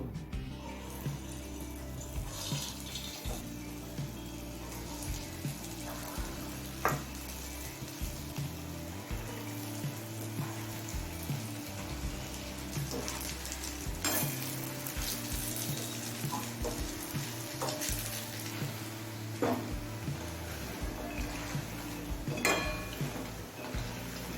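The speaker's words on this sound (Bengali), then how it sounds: "এবার বড়াগুলো ভেজে নেব" Lentil batter fritters (dahi phulki) deep-frying in plenty of hot white oil, a low, steady bubbling sizzle throughout with faint occasional clinks and stirring, and no speech.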